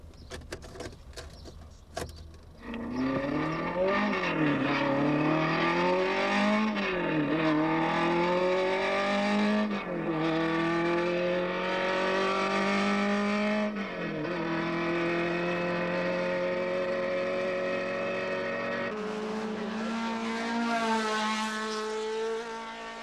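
A car engine revs up and down repeatedly, its pitch climbing and falling in long sweeps, loud and continuous, with a brighter surge near the end.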